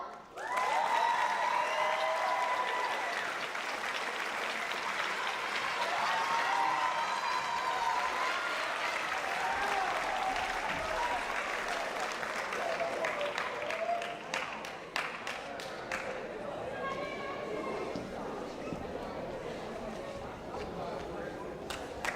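A high school JROTC awards ceremony audience claps in a sustained, loud round that holds steady and then tapers slightly, with scattered cheers and whistles rising over the dense clapping.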